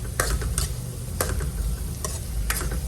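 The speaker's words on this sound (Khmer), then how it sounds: "យើង យកវែកឆាត្រឡប់បាទត្រឡប់ពីដើម្បីឲ្យគ្រឿងរបស់យើងចូលសពមួយខ្លាញ់" A ladle stirs chopped spices in hot pork fat over a steady, loud sizzle, with sharp scraping clicks against the pan roughly every half second and no voices.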